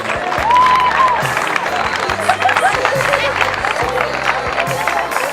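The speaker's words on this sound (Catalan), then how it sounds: "jo primer tot un aplaudiment fort per tots ells per l'esforç que hem fet." A crowd at a school peace day event gives the participants a loud, sustained round of applause, dense clapping with some cheering and crowd murmur over a low background hum.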